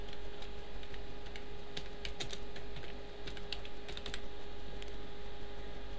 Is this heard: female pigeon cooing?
no